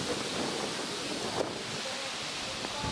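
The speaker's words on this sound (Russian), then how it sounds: "Ветер сегодня." Steady wind at a church entrance buffets the microphone, a constant rushing roar with a slightly stronger gust midway, no voices.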